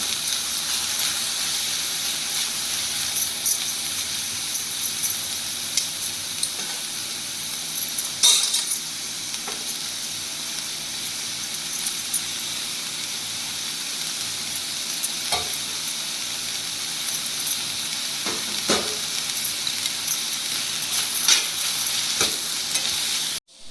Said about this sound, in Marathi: भाज्या आपण सगळ्या थोड्या वाफळून घेतलेल्या आहेत